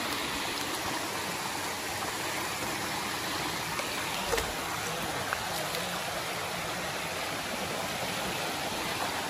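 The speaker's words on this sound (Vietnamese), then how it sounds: "Đây là cái khe suối, khe nước" A mountain stream rushes through a narrow gully on an unstable, cracked hillside, a steady close broadband wash of flowing water running continuously without pause.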